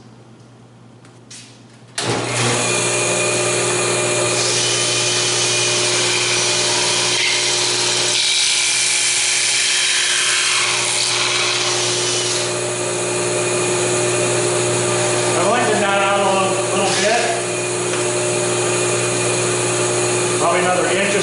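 A table saw fitted with a barrel taper jig runs loud and steady throughout, its motor hum and whine holding constant as it cuts a taper. A voice talks briefly over the noise partway through.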